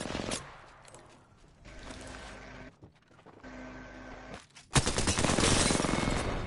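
Gunfire in a shooter video game: bursts of rapid automatic shots, some brief and clipped, then a loud sustained stream of fire at the end, with no voices.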